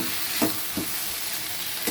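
Curry leaves fry in oil in a pan for masoor dal, giving a steady, bright sizzle with a few soft stirring scrapes, close and continuous.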